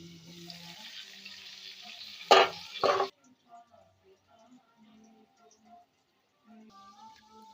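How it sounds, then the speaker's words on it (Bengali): Eggplant frying in a wok gives a brief sizzle with a couple of sharp scraping bursts for about three seconds, then drops away to quiet, with soft voices in the background. "এই বেগুন ভাজা হয়ে গেছে।"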